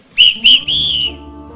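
A whistle is blown as a warning at a commemorative ceremony, three times, two short sharp blasts followed by a longer one, loud and close.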